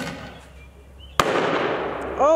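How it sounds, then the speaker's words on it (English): A Taginn ML36 grenade launcher round exploding: one sudden sharp blast followed by a rushing, crackling decay, loud and nearby, with a brief voice just after it. "For both rounds, the explosion is fucking amazing,"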